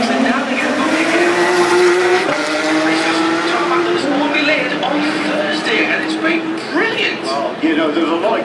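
High-horsepower race cars drive through turn six of a track, engines droning and shifting pitch as they pass through the corner, loud and sustained beneath a commentator's voice.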